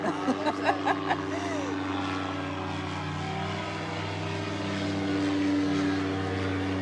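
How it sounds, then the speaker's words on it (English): Airplane passing over a river, a steady, loud propeller-like engine drone that hums continuously and builds slightly toward the end, with a few brief knocks at the start. "it'll get a little noisy when the planes go by"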